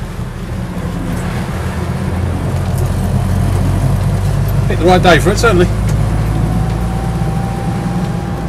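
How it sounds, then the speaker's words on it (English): A Land Rover Lightweight's engine, fitted with a new distributor, runs with a steady low drone throughout. Someone speaks briefly over it midway. "engine sounds sweet and nice"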